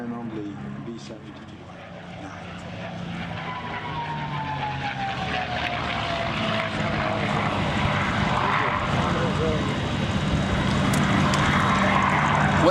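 The piston engines of the B-17 bomber Sally B drone at an air show, a broad propeller roar that swells steadily louder as the aircraft nears, with someone talking over it.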